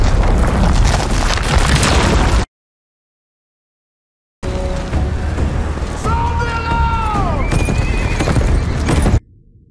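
Horses neigh loudly with rising and falling whinnies over hoofbeats and rumbling booms, broken by a short stretch of silence.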